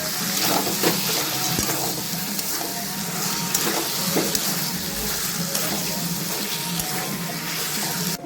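Mutton chunks with potatoes, chopped tomato, green chillies and spices stir-frying in a pan, a steady close sizzle with scraping stirs running throughout.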